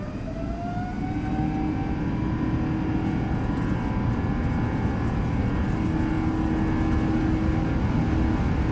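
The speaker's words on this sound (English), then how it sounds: "Takeoff power set." Simulated Airbus A330-900 engines at takeoff power in X-Plane 12 produce a steady, loud roar with a rising whine that holds evenly throughout, with no voices.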